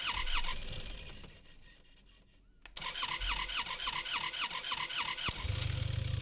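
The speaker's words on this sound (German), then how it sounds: "Hier wollen wir die Karre ankriegen." A car engine in the survival game SCUM cranks and catches near an airfield, then settles into a loud, steady idle with a rhythmic chug. Another deeper rumble joins near the end.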